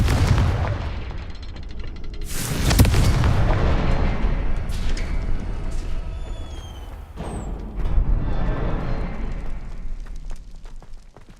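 Confringo explosive spells blasting in the Hogwarts Mystery video game: two heavy booming explosions with crackling debris and bright magical whooshes and zings between them, loud and close, trailing off into rumbling echoes.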